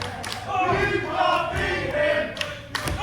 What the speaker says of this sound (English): The crowd letting Camron know they don't think he can beat Jordon breaks